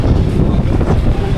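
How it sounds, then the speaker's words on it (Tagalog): Loud, gusty wind blasts across the microphone in Boracay, a dense, unbroken low roar throughout. "Sarap ng hangin."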